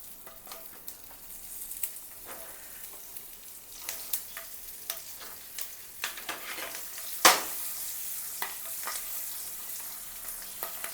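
Stuffed capsicum peppers laid into hot oil with a spiced tempering in a Maharashtrian kitchen, giving a continuous crackling sizzle with scattered pops and one sharp clink partway through.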